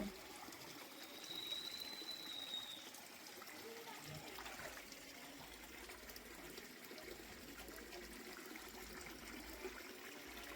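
Spring water pouring in five streams at a Shiva temple in Rambilli, Andhra Pradesh, a steady continuous rushing and trickling wash that stays fairly constant throughout, with faint background voices.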